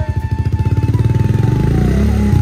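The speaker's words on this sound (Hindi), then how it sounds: "भाई दो दो हैवी इंजन का बाइक यहाँ पे स्टार्ट हो गया, आवाज सुनो" Two heavy-engine superbikes, a Bajaj Dominar and a Kawasaki, both green, idle loudly nearby with a steady rapid thumping exhaust rhythm that swells slightly as one revs, with no talking over it.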